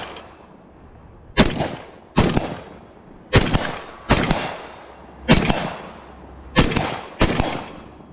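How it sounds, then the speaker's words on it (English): AR-15 rifle at 3x magnification fired at steel poppers on a range: eight sharp, loud shots at irregular intervals, each with a short ringing decay and no talking between them. "let's put it at 3 times magnification and just take a handful of shots at these poppers over here"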